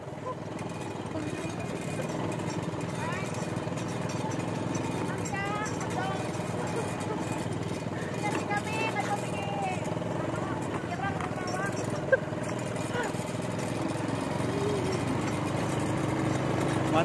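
A four-wheeled quad motorbike engine runs steadily, a continuous rough mechanical drone at moderate level with voices talking over it throughout.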